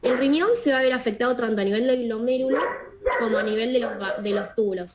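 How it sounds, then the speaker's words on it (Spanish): Dogs bark at builders working next door, loud and insistent, sounding through a person's continuous speech. "perdonen por los perros, pero hay albañiles al lado de mi casa y les ladran"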